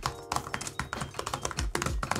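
Rapid, irregular key presses on an LG gram laptop keyboard, close and crisp, with a quick run of taps and brief pauses between bursts, heard alone without talk.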